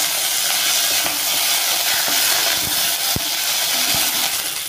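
Curry leaves dropped into hot oil with mustard seeds and chana and urad dal, a loud, steady hiss and sizzle with crackling pops and a few stirring knocks, close up.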